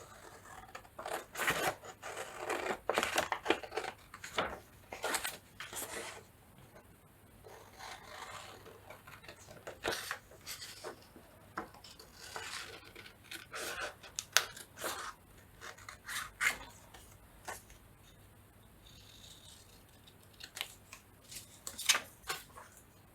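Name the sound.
scissors cutting paper for a junk journal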